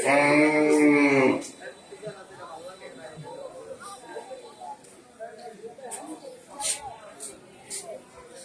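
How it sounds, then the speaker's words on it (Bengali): A cow lows loudly and close for about a second at a temporary roadside market of local cattle near a hospital in Kalma bazar. A busy murmur of crowd voices and scattered knocks follows. "কলমাদার হাসপাতালের সামনেই গরুর হাট পেয়ে যাবেন অস্থায়ী গরুর হাট"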